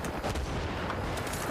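Gunfire in the Vietnam expansion of Bad Company 2, a dense, continuous rumble of shots and distant blasts with no clear gaps.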